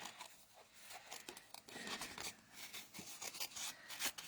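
Scissors snip roughly around a paper mask shape, making quiet, close, irregular crisp cuts and rustles of paper throughout.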